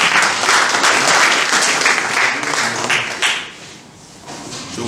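Loud, dense applause from a crowd at a Christian convention launch dinner in Atakpamé, sustained for several seconds before thinning out toward the end.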